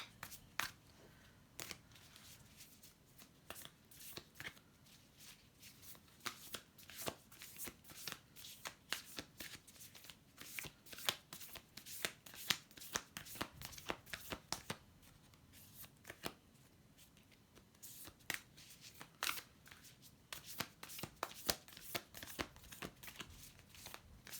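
Rapid, repeated riffling and slapping of a deck of oracle cards being shuffled close by, in bursts across the whole stretch with no talking.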